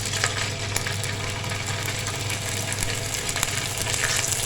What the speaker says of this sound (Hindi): और अब हम इसको 2 मिनट तक फ्राई करेंगे। अदरक लहसुन फ्राई हो गया।